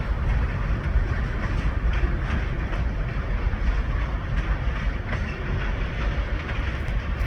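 Kiamichi Railroad SD locomotives pulling eastbound cars through Idabel, Oklahoma, rumble steadily nearby with continuous low, heavy wheel roar and faint rhythmic clatter, with no voices.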